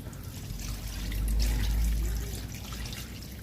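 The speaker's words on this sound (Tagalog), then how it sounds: "Tubig mga idol." Water pours steadily into a cooking pot for Spanish-style bangus (milkfish) with a soft, continuous splashing rush that swells in the middle, close by with low rumbling background.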